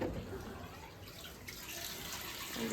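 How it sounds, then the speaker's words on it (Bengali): Water draining from a washing machine through a pump pipe, a faint steady trickling and running flow that continues for a few seconds with no break. "জলটা এখন ওখান থেকে বেরিয়ে যাবে,"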